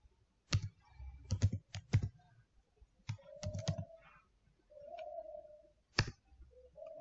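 Close, crisp clatter of a computer keyboard typed in quick clustered bursts with short pauses while writing code, and a faint tone in the background.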